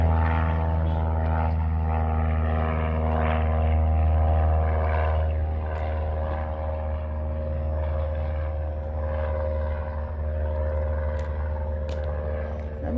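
A helicopter flies overhead near Abbotsford airport among snow-capped mountains, making a steady, droning engine hum that holds evenly throughout with no talking.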